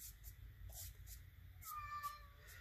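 A cat meows to be let in, a faint, distant drawn-out call near the end, heard under low steady room noise and soft brushing sounds.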